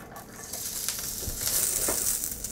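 Sugar snap peas sizzle and crackle in a hot pan, a steady loud frying hiss that swells slightly partway through, with light stirring scrapes.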